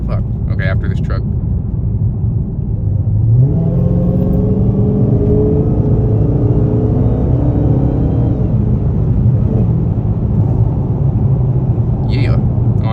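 A Dodge Charger Hellcat accelerates hard from inside the car, its engine note climbing in a long rising roar over constant road rumble before easing off.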